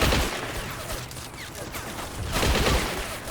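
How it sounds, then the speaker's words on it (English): Sustained automatic gunfire from a Dodge WC-55 in the Men of War: Assault Squad 2 battle game, a dense continuous burst spraying into bushes, loud throughout with a brief dip midway before swelling again. "So he's going to let loose into the bushes here. Spray and pray."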